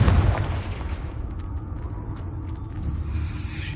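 Rumbling blasts and mechanical creaks from Confringo fire spells in the game Hogwarts Legacy, a heavy low boom at the start followed by sustained rumbling, steady and fairly loud.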